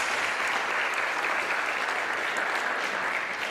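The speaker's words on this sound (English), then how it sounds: "I think it was good that we just applauded them right there" A church congregation applauding the worship team, steady, dense clapping from many people filling the room at an even level throughout.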